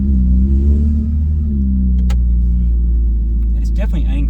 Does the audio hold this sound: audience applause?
no